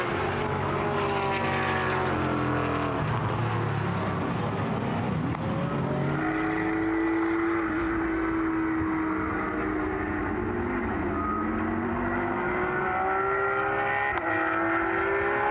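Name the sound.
race car driving slowly on the track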